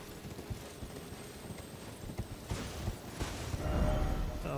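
Steady clip-clop of horse hooves trotting in Elden Ring: Shadow of the Erdtree, over a continuous background hum, the rhythm growing slightly louder toward the end.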